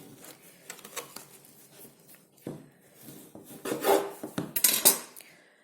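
A knife saws through a crusty artisan sourdough loaf with a thick crust, giving close, crackly rasping strokes that build toward the end.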